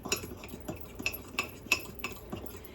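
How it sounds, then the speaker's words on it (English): A spoon stirs chocolate mug cake batter with vegetable oil in a mug, giving quiet, regular clinks and scrapes roughly every third of a second, close by with no talking. "You can use, and then you stir again."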